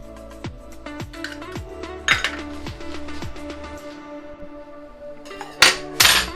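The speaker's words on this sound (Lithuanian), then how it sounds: "Ir įmušame 3 kiaušinius." Three eggs are cracked into a bowl of oats for pancake batter, a run of sharp clinks and taps against the rim followed by crackly shell-breaking bursts near the end, close and distinct.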